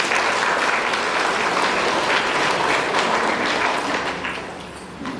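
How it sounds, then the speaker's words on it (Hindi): Sustained applause from a congregation welcoming a visiting priest at a confirmation mass, steady dense clapping throughout that tapers slightly at the end. "आप ताली बजा करके स्वागत करें।"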